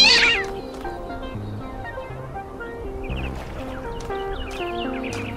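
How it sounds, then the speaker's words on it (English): A cat in The Talos Principle II video game meows repeatedly, fairly close and clear over a soft ambient background, with a few drawn-out caterwaul-like calls. "There was a cat."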